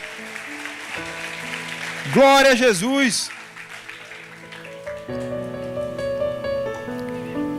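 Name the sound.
congregation applauding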